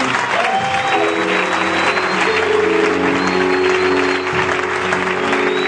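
Congregation clapping steadily throughout a French-language prophetic church service, a sustained wash of applause with organ or keyboard chords held underneath and faint voices in the crowd.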